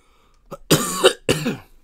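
Two or three harsh coughs close to the microphone, a short throat-clearing burst followed by two louder rasping coughs, in an otherwise quiet room.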